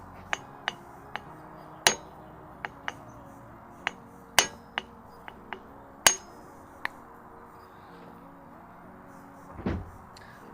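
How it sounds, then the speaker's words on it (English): A regular steel hammer strikes to seat a CV boot onto a car driveshaft, giving about a dozen sharp, irregularly spaced metallic blows close by in a quiet garage, then a short scraping rustle near the end. "I'm just going to hit it with the regular hammer."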